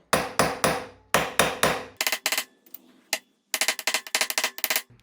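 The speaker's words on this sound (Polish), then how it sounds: "Teraz już sobie mogę użyć metalowego młotka." A metal hammer drives a headset bearing race into the frame of a Yamaha YZ 125 with sharp, ringing close-up blows: two groups of three strikes, then a quick cluster, a lone hit and a fast run of taps.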